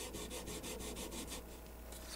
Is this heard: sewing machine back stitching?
no